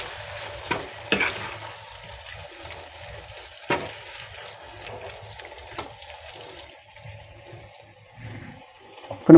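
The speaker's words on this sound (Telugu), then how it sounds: "ముల్లంగి పాలాకు ఫ్రై అయితే రెడీ అవుతుంది" Radish leaves frying with masala powder in a pan, a low, quiet sizzle with several sharp spoon knocks and scrapes scattered through and a louder clank at the very end.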